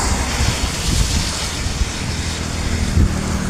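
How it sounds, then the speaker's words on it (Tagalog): Loud, continuous roar of a deep river rushing near overflowing during Typhoon Crising, mixed with heavy wind buffeting the microphone, with no talk. "Malalim to ilog mga idol, pero grabe, malapit na mag-apaw mga idol."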